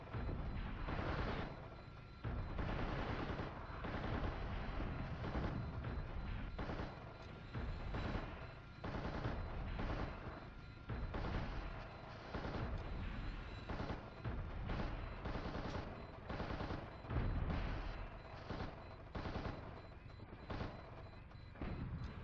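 Rapid gunfire and blasts in the mech game Steel Battalion as tanks are blown up, a long run of dense repeated shots and bursts, steady and close, with no talk over it.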